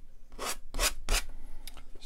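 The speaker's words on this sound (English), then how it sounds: "Scrape it off, wipe your knife off." A painting knife scrapes paint off a canvas in three distinct strokes, followed by a fainter fourth, during a mountain landscape painting demonstration; the scraping is close and rough, with no voices.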